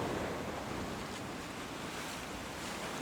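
Ocean waves wash in a steady, continuous surf roar with some wind noise on the microphone, filling the whole moment without any voices.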